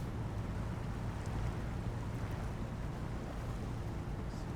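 A truck drives through water in the video game SnowRunner while its engine takes damage from the water. A dense, steady rushing wash of water and low rumble carries on without a break.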